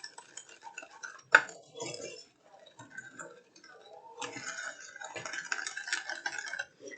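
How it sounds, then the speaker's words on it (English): A utensil stirs homemade caramel sauce with added whole milk in a pan, making quiet intermittent scrapes and clinks, with one sharp knock early on. "I'm going to keep stirring, and I'm going to keep heating this until it comes to a boil"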